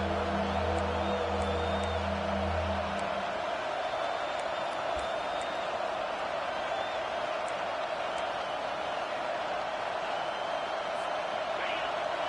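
In an NCAA 25 college football video game, a stadium crowd roars steadily as a dense, constant wash of noise on a third-down defensive stand, with a low rumble at the start and faint scattered whistles and whoops within.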